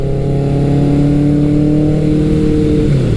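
Loud, close motorcycle engine, a Kawasaki Eliminator 900 or Suzuki GS1100L, holding a steady drone at high revs before the pitch drops off near the end.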